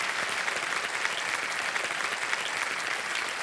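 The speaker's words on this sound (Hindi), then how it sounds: "तालियां बज जाए जोरदार।" Loud, steady studio audience applause on the KBC game show, a dense wash of many hands clapping continuously throughout with no break.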